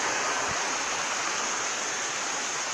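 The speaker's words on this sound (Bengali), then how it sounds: "প্রচণ্ড জলের আওয়াজ এখানে।" At Rock Garden in Darjeeling, a waterfall roars as a loud, dense, unbroken rush of water, close and steady throughout, with no voices.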